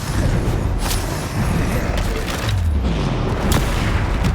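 Spell blasts from Confringo in Hogwarts Legacy boom through dense, continuous combat noise, with a few sharp cracks and explosive thumps over a loud rumbling bed.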